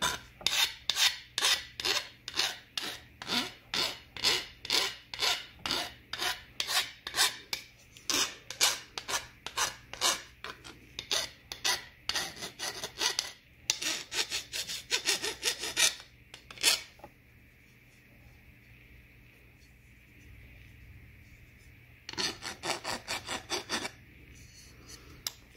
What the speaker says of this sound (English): So I just gotta file it down a little bit where I made the cuts. And this is aluminum.